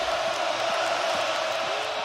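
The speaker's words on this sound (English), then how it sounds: "This crowd really getting amped up." A college football stadium crowd during a playoff game between James Madison and Oregon, a loud steady roar of cheering and whooping that holds without letup, with a faint voice mixed in.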